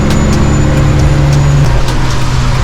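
A custom Peterbilt truck cruises at night, its engine a loud steady drone with a low sustained hum throughout.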